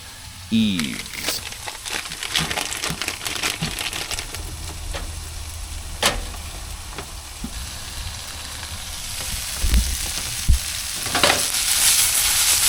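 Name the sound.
onions and Yves veggie hot dog wieners frying in a pan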